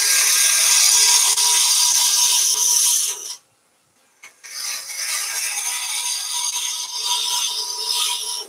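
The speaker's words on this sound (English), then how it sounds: "So I'm just using the bowl gouge to rough down" A bowl gouge roughs down a resin and polyester pen blank spinning on a wood lathe, giving a loud steady hissing scrape that drops out briefly mid-cut and then resumes.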